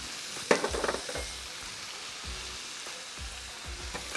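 Four slit green chillies dropped into simmering rasam, a soft continuous sizzle and bubbling with a few sharp clinks and splashes as they go in and are stirred.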